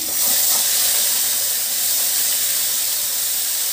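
Onion paste added to hot oil in a pan while cooking prawns, giving a loud, close, steady hissing sizzle that holds for a few seconds without talk.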